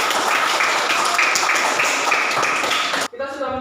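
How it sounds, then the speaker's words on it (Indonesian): A classroom audience applauds group 5 with a dense, steady patter of clapping for about three seconds, and then a voice begins speaking. "Tepuk tangan untuk kelompok 5"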